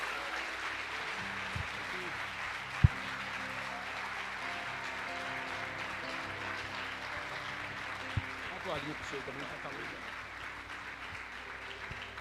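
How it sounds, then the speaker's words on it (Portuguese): A church congregation claps for Jesus in a soft, continuous patter, with faint voices underneath. "Você vai dar um aplauso bem gostoso para Jesus"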